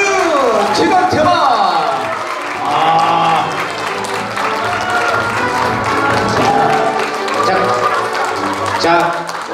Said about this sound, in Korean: 축하의 박수 한번 보내주시고 20회도 박수